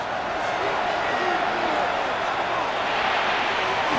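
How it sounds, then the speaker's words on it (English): A steady stadium crowd roar fills a Madden NFL 26 game between Washington and the New York Giants before a third down, loud and unbroken throughout. "This crowd, they're trying to force a false start."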